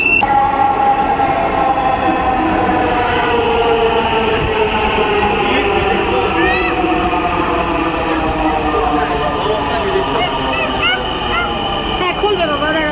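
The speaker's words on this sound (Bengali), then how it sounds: "আমাদের ট্রেন চলে এসেছে আর কি দ্রুত চলে" A Dhaka metro rail train, on the line bound for Motijheel, pulls into the station with a loud, steady rumble and a rising and falling electric whine and squeal, filling the platform.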